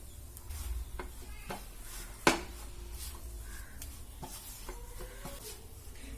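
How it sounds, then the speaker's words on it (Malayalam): Samosa masala being stirred with coriander leaves in a pan, soft scraping and rubbing strokes with faint sizzling and one sharp clink of the spoon against the pan, quiet and close. "ഈ മല്ലിയിലയും കൂടി ചേർത്ത് നന്നായിട്ട് മിക്സ് ചെയ്യാം"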